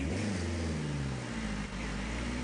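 Diesel car engine in Forza Horizon 4 revving steadily with a low droning tone, limited to about 4000 rpm, loud and continuous with no talk.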